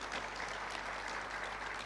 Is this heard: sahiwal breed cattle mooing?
no